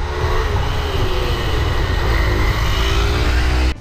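Hero XPulse 200 motorcycle riding at highway speed, a loud continuous engine drone mixed with heavy wind rush, steady throughout before cutting off abruptly.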